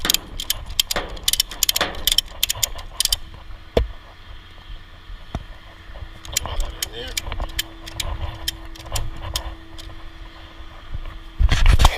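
A ratchet cranked to tighten a strap on a tow truck, rapid clicking bursts near and loud amid mechanical clanks, with someone speaking briefly.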